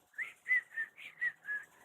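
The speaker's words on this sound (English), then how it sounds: "I can use my tongue" Someone whistles using the back of the tongue, producing six short, bright, evenly spaced tones at close range, alone without speech.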